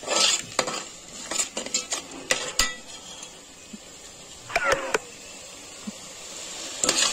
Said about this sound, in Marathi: टोमॅटोची प्युरी तेल सुटेपर्यंत तिला फ्राय करून घ्यायची आहे।